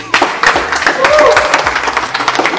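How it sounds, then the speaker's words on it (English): A crowd claps and applauds for a man named Tony at a Ghanaian gathering, a short burst of hand claps mixed with chatter and voices. "can I have a big applause to him?"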